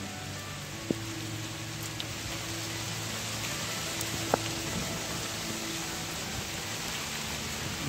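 Steady rain patters on surfaces in a village, a dense hiss with a few louder drips and taps standing out now and then.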